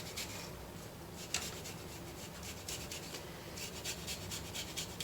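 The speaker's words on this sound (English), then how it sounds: "So you're just going to grate it." Fresh ginger is rubbed against a grater in a kitchen, making a quiet, close, repeated scratching rasp in short, uneven strokes.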